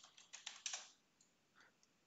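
A burst of quick, close keystrokes on a computer keyboard, a few rapid clicks followed by two or three sparse taps, quiet, with no talking.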